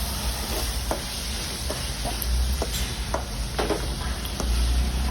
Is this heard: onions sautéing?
yes